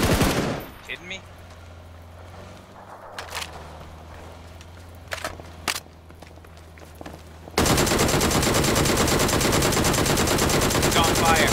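Shotgun gunfire in a battle royale video game, heard as a few sharp separate blasts over quiet game ambience, followed by a sudden loud, continuous burst of dense crackling gunfire that fills the final seconds.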